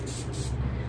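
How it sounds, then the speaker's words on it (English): A spray bottle gives two quick, close spritzes in a row with a soft hiss, and no voice is heard. "I'm gonna spray."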